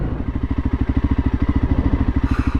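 A dirt bike engine idles nearby, putting out a loud, steady, rhythmic thumping pulse at a regular beat throughout, with no speech.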